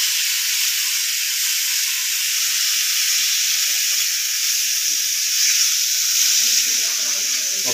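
Steady frying sizzle of food in a pan while making homemade pizza, a continuous bright hiss with faint low clatter and movement near the end.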